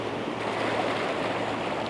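Ocean waves at sunrise washing over sand make a steady, continuous broadband wash with no distinct breaks, moderately loud and close, with no voices.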